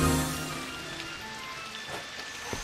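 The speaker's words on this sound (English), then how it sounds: "Oh, it's rainy. Why is it raining through the roof?" Rain falls through a roof in the video game Viewfinder, a steady soft hiss of rainfall with faint scattered drips, alongside a low sustained tonal ambience that fades early on.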